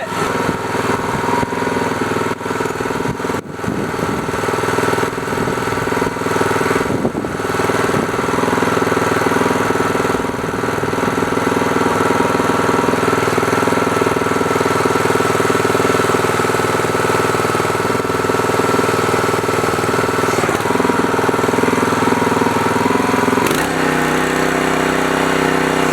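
Newly swapped small engine on a wood splitter idling, a loud, steady, continuous drone that holds without letup, with a faint change in tone near the end.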